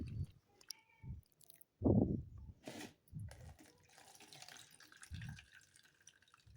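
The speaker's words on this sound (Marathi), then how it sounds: "2 पाण्याने स्वच्छ धुवून घेऊन" Tap water runs and splashes as soaked kidney beans are rinsed, with irregular knocks and sloshing bursts, then a steadier stream of water near the microphone.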